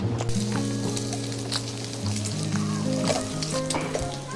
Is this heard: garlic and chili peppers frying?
yes